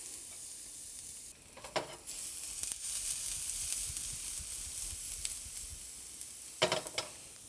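Garlic hits hot oil laced with sesame oil and sizzles continuously, with a couple of sharp spatula scrapes and stir clicks cutting through the steady hiss, no talking.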